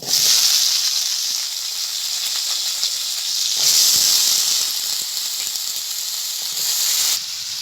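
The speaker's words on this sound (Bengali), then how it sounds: "একইভাবে আমি আলুগুলোকেও ভেজে নেব।" Potatoes frying in hot oil give a steady, loud sizzling hiss that swells and eases in waves and holds up close throughout.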